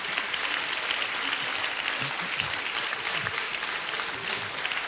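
Audience at a welcome assembly applauding, a steady wash of many hands clapping from a sizable crowd, evenly loud throughout without talk.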